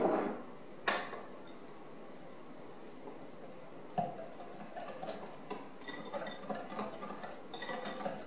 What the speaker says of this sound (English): We're going to give that a whisk.